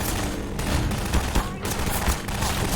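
Bursts of gunfire in the game Half-Life 2, a fusillade of sharp repeated shots in an irregular rhythm, loud and close, with a voice heard briefly among them.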